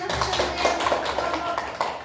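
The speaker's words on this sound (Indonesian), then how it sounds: "Tepuk tangan berikan" A group in a classroom applauds during a linear algebra teaching practice session, a short burst of quick, rhythmic claps from several people, close and moderately loud, with voices mixed in.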